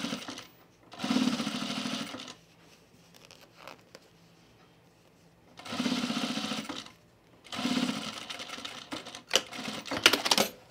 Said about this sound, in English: we're gonna top stitch the bottom seam below the welt right here